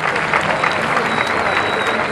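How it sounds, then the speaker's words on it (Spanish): A live audience at a folk music event claps loudly for the musicians, with a dense, even wash of applause and some crowd voices mixed in throughout. "El aplauso para ellos."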